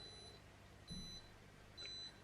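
A DermRays V8S handheld laser hair removal device gives short, high electronic beeps, three quiet tones spaced roughly a second apart over faint background noise.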